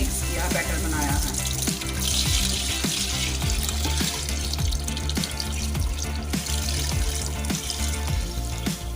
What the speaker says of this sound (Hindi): ये तकरीबन आधा जग पानी और डाल देंगे।